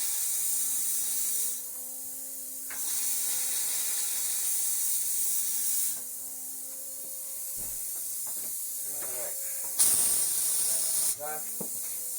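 Compressed air blows out the water lines of a Grand Design 2800BH travel trailer, making loud hissing bursts that start and stop several times, with sputtering spurts near the end.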